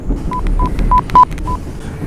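Five short telephone keypad tones beep in quick succession as a number is dialed, close and clear over a low background hum.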